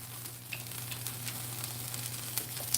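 Piping hot food sizzling as it fries for a Mexican-night meal, a steady hissing crackle with scattered small pops, continuous and even in level, with no talk over it.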